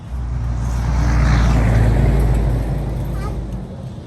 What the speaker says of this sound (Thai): ยินเสียงรถในเด้อพี่น้องพอรถแล่น